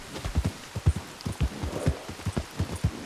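A horse's hooves clip-clop steadily in Red Dead Redemption 2 during a ride, a close, even rhythm of dull thuds repeating for about three seconds with no voices.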